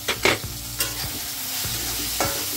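A spoon scrapes and stirs through a chutney mixture with fresh coriander in a pan, several quick strokes early, then a few spaced scrapes over a soft, steady sizzle.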